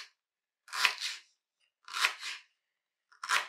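A knife slices cleaned vegetables in half for a Liège-style potée, three separate crisp crunching cuts about a second apart, close and clear with silence between them.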